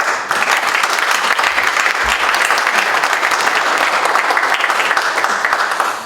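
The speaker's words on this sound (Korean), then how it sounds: "이 훌륭한 발표해 주신 정 수석께 박수 한번 드립니다." A room at a Korean defence industry society policy forum fills with loud, sustained applause for a presenter. Many hands clap at once in a thick, continuous wash that holds steady for several seconds and then tapers off at the end.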